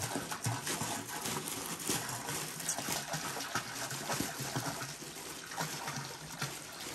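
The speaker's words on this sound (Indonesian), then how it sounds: "kenceng banget ya pak airnya" A strong, continuous flow of water pouring into a fish pond used to store water for irrigating durian trees: a dense, steady gushing and splashing rush, close and unbroken, with no voices over it.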